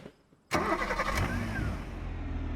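A car engine starts abruptly in the BeamNG.drive racing game, cranking to life with a sharp onset and then settling into a steady, loud idle hum.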